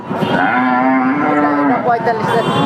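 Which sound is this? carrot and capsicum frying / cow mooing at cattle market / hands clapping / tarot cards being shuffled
cow mooing at cattle market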